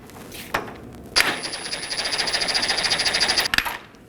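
A ratchet wrench snugs down the front lower control arm bolt on a 2020 Toyota Corolla, giving a fast, even run of close metallic clicks after a couple of sharp knocks, with no talk.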